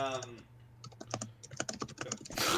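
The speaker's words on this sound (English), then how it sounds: "we can hear you typing" Quick clicking keystrokes on a computer keyboard in an irregular rapid burst, faint and close, following a short stretch of someone speaking.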